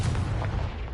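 Confringo fire spell from Hogwarts Legacy gameplay, a continuous loud booming, crackling blast with heavy low rumble that fills the whole second and carries no talk.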